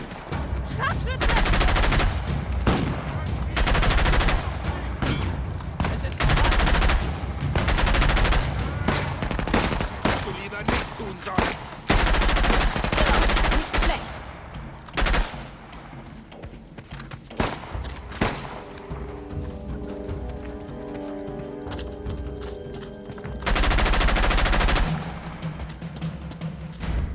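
Gunfire in the video game Uncharted: Legacy of Thieves, loud repeated bursts and single shots in long volleys, with quieter gaps carrying game effects and occasional voices.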